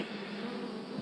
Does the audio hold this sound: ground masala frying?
no